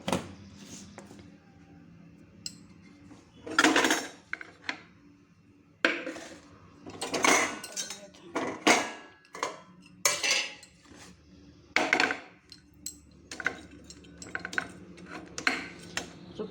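Fish being mixed with turmeric powder in a metal dish gives repeated clinks and scrapes of utensils against the dish, irregular bursts at close range with no talking.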